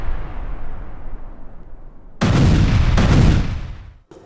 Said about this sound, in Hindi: हमला किया गया और उसके बाद जोरदार धमाका हुआ है